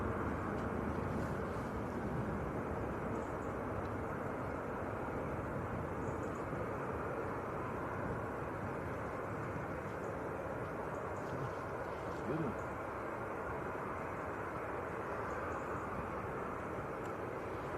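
A KLM Airbus A321neo from Amsterdam lands at Manchester Airport, heard as a steady, distant broadband roar of jet engines that holds at an even level throughout with no clear peak.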